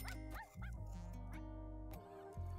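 A puppy named Meatball barks and yips indoors in a few short, high, close bursts, with whimpery, squeaky tones between the louder yaps.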